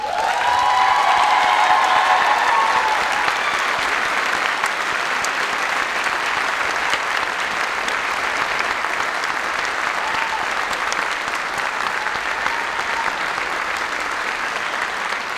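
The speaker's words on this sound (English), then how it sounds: "The only band to get a standing ovation." A crowd gives a standing ovation to a high school marching band at an evening varsity show in October 2024. The dense, continuous applause holds steady and loud for over fifteen seconds, with faint cheering in the first moments.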